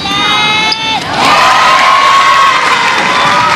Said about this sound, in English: As you could hear, just that little voice cheering for Thailand on the sidelines